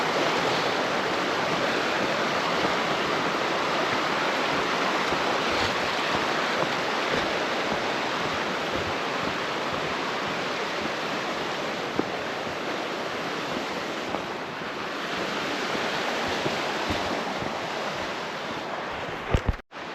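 A small rainforest creek, Little River in Olympic National Park, rushes steadily and close by, a broad continuous wash of flowing water with light wind noise and no talk.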